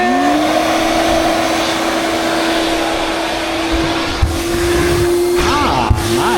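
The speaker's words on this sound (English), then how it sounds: "Let's see if we can vacuum this thing out." Shop vacuum drones steadily while cleaning out an abandoned 1994 Ranger bass boat, a constant close whine with brief bumps and sucking rattles near the end.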